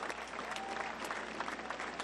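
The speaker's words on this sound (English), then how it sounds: "Give him a round of applause at that." A crowd at an outdoor memorial service for George Floyd in Brooklyn claps and cheers in a dense, continuous burst of applause.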